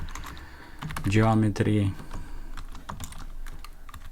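Rapid clicking keystrokes on a computer keyboard while Python code is typed, close and crisp, with someone talking in the middle of the typing.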